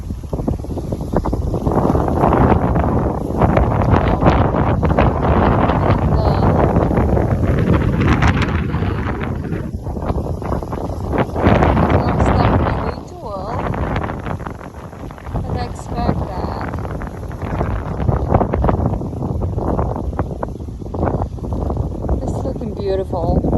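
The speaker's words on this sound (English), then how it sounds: "It's very windy." Strong gusts of wind on a stormy fall day roar across a backyard dahlia garden, buffeting the microphone loudly and steadily. Someone talks throughout beneath the blustery rush.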